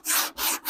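Sandpaper rubs back and forth over a dent in automotive body work, giving three close, even strokes of rough, hissing friction with short gaps between them.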